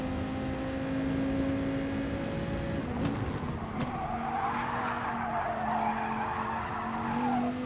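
Race car tyres squealing in the GT Sport video game at Spa, a sustained screech over steady engine drone midway through the corner.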